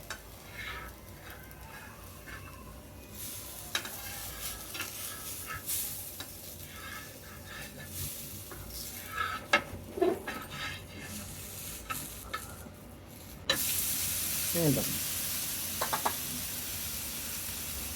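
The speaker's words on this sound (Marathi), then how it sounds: "हा जो चरचर आवाज येतोय ना हा किंचित बंद झाला ते मग आपण घावन उतरवायचं" A ragi (finger millet) ghavan crepe sizzling on a hot pan, a continuous close crackle and hiss broken by a few sharp scrapes and taps of a spatula, with the sizzle swelling brighter near the end.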